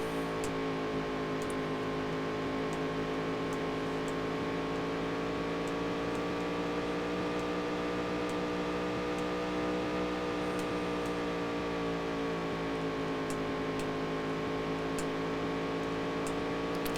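A stock-car engine drones in the Dirt to Daytona racing game, holding a steady, harmonic-rich tone that swells and dips slightly during a lap, continuous and unbroken throughout.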